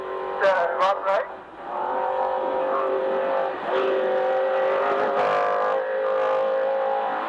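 From inside the cab of the number 94 race truck in the 2025 SCORE Baja 1000, the engine drones loudly and continuously with surging revs, while voices speak over it.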